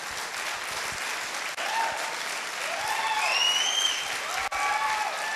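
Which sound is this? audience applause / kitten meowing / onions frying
audience applause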